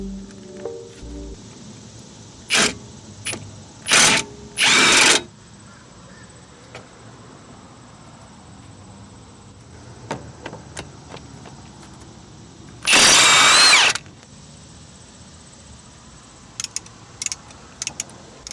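Power tool driving out the three hub bolts on a 1993–98 Jeep Grand Cherokee with a 13mm 12-point socket: several short loud bursts early on, then a longer burst midway, with faint clicks near the end.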